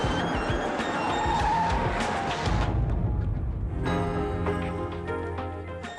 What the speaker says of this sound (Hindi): ड्राइवर जरा गाड़ी रोकना